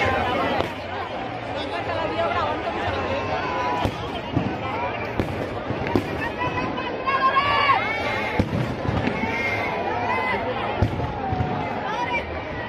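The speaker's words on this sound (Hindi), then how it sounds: "पटाखा, अब जला देगा।" Firecrackers crack and pop in scattered sharp bursts at an outdoor Dussehra Ravan Dahan celebration, mixed with nearby voices and steady crowd chatter.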